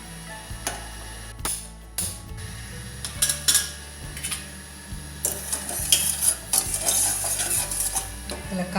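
A kitchen stove is switched on beside a pan of sugar and water for wheat-flour halwa (kada prasad), giving a run of close mechanical clicks and rattles followed by soft scraping and a faint sizzle.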